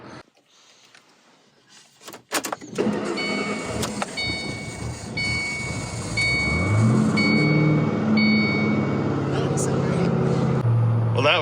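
A supercharged Saleen S281 Mustang is started cold, with clicks and a few stumbling cranks before it catches and settles into a loud, steady idle close by. A voice is heard over the engine.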